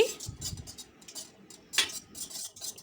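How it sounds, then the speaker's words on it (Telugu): A whisk beats three eggs in a bowl for caramel egg pudding, making light metallic clinks and scrapes against the bowl in uneven bursts, close by. "విస్కర్తో ఇలా బాగా బీట్ చేసుకోవాలండి"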